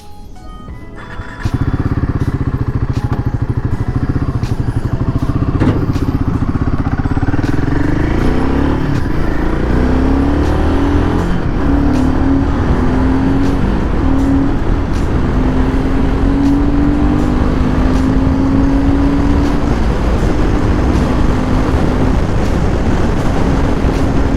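A Royal Enfield Himalayan 452 motorcycle with Sherpa engine, in performance mode, runs steadily and loudly after a short quiet start, its pitch rising and settling as the bike rides along close by.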